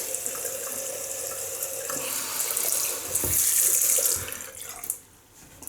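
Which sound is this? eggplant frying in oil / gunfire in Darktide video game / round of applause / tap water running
tap water running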